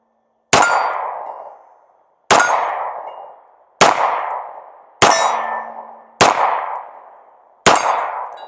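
A Walther P38 pistol fires six single-action rounds outdoors, each a loud, sharp crack with a ringing decay, spaced about one to two seconds apart with no talking.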